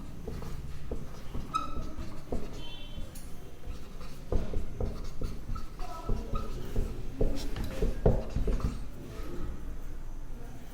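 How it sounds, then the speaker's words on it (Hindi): Chalk or marker scratching and tapping on a board during a history lesson, irregular short strokes and knocks continuing for several seconds, with a teacher's quiet voice heard at times. "मैं यहाँ लिख रहा हूं"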